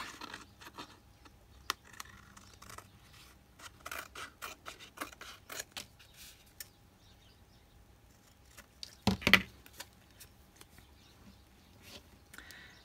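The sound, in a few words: scissors cutting a piece for a junk journal tag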